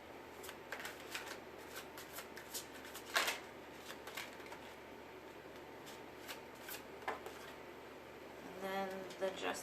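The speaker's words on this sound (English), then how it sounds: "I'm going to deal them all out, and then we'll talk about them" A tarot deck is shuffled and dealt close by, giving soft riffling flutters and light card snaps at a low level. A faint voice speaks now and then.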